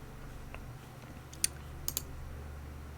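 A few sharp, faint clicks of a computer keyboard during PC game play, isolated taps over a quiet low hum rather than continuous typing.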